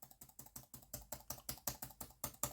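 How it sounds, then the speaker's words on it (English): Fingers type briskly on the keyboard of a Jumper Ezbook A5 budget laptop, a quick, close run of crisp, tactile key clicks in an uneven rhythm with no voices. "I quite like the tactileness of the keyboard"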